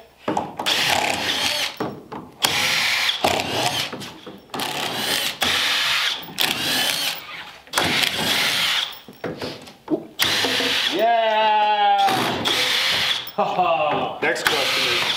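Power drill backing screws out of the sides of a wooden crate, whirring in repeated short bursts with pauses between them, close by, while people talk in between the runs.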